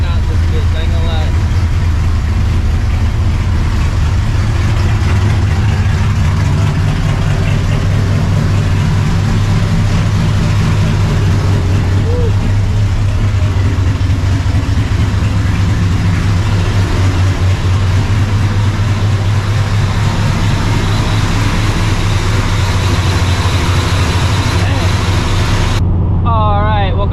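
A cammed and Procharged 600HP 1999 Mustang GT idling on a cold winter start, a loud, constant low engine rumble with a choppy lope throughout, and a voice talking over it.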